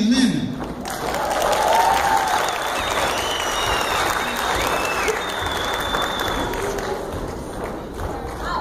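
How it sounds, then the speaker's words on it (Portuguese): An audience applauds after a marching band's performance in a school theatre, dense and sustained clapping throughout, with a voice briefly audible over it near the start. "Vamos aplaudir, galera!"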